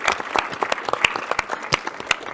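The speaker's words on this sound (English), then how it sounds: "I just wanted to get a round of applause for Matt Odell" An audience at the Bitcoin 2022 conference claps, a fairly small crowd producing a loose run of distinct, sharp hand claps that sounds moderately close and even in loudness.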